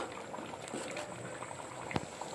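A pot of ridge gourd sambar bubbles on a village kitchen stove with a steady, close simmer, soft popping bubbles and an occasional louder blip.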